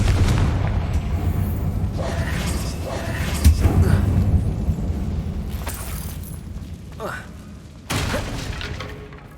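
The Confringo fire curse explodes inside a closed mine in Hogwarts Legacy, giving several booming, shattering blasts that trail off into rumble, and a sharp burst near the end.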